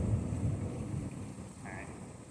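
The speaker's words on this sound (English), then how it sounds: "Hopefully the wind isn't interfering too much." Wind blows outdoors during a TV antenna installation, producing low, gusty buffeting on the microphone that eases slightly toward the end, with a brief faint tone near the close.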